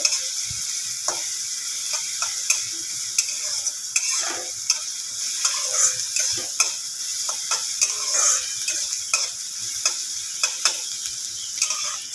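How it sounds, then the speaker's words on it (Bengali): Snake gourd (chichinga) fries in a pan, with a steady hiss of sizzling oil punctuated by frequent sharp ticks and scrapes of a spatula turning the pieces, close and fairly loud. "দেখুন সুন্দরভাবে লাল লাল করে ভাজা হয়ে যাচ্ছে"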